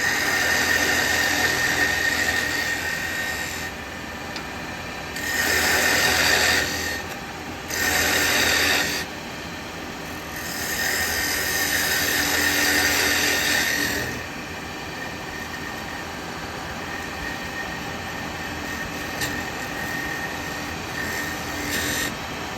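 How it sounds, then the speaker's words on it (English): A square carbide tool cuts into wood spinning on a lathe while making a tea light holder, a steady loud rasping scrape over the hum of the machine that swells in several bursts as the cut deepens. "I'm just going to use the square carbide."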